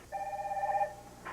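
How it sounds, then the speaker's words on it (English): A telephone rings once indoors in a 1991 soap opera scene. It is a short, fairly faint electronic trill lasting under a second, with no other sound around it. "That was a phone."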